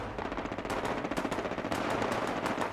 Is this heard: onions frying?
no